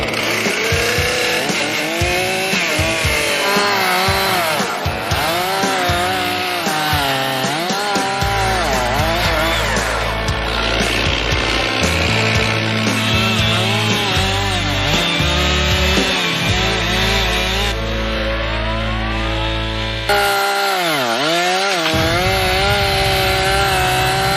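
A chainsaw roars continuously, its engine pitch rising and falling as it cuts through a tree trunk, loud and close throughout.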